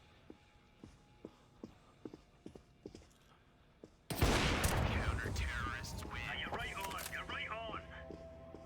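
Video game gunfire during a hostage escort, starting with sparse quiet clicks and taps, then a loud sudden burst of rapid shots with continuing fire, mixed with game effects.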